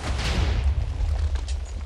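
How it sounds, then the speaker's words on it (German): TNT blasts going off in the video game Minecraft, a dense run of booming low rumbles with pops and crackles layered over each other, loud and continuous for about two seconds. "Ich sehe Explosionen, aber der Berg wird nicht weniger."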